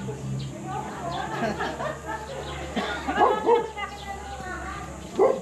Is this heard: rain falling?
no